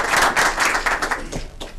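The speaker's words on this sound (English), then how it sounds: "Let's give her a round of applause for everything she's done." A short round of applause from an audience at a chamber of commerce candidates forum: brisk, crowded clapping that thins out into a few scattered claps at the end.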